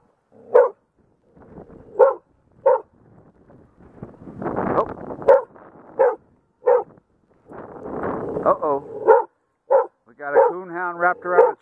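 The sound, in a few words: dog barking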